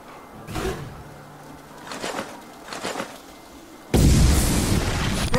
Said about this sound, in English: Hearing random explosions triggers me.